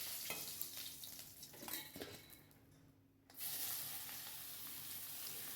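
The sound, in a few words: radish and green chili added to hot oil with mustard seeds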